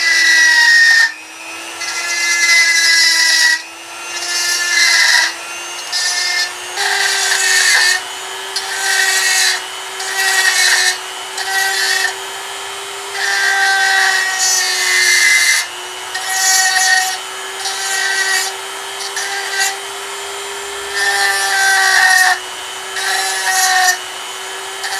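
A steady motor hum underlies repeated abrasive grinding passes of wood pressed against a spinning drill press disc sander, loud and close, in bursts with brief pauses between.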